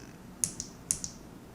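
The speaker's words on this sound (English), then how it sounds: "I'm sorry if you can hear my keyboard clicking." A mechanical keyboard gives a few crisp, sharp key clicks in two quick pairs, close and clear against a quiet background.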